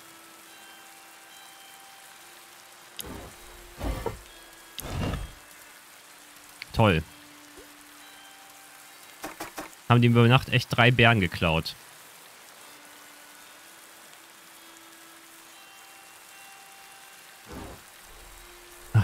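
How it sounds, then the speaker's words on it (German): Light rain falls steadily in the survival game Dead in Vinland, a faint continuous patter under scattered clicks and bursts of German-speaking voice. "Ein wenig Regen."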